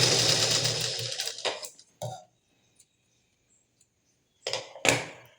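A sewing machine stitching a plain blouse runs in a steady close whirring burst for about a second and a half, then stops with a couple of short clicks, a quiet pause, and two brief bursts of stitching near the end, with no talk.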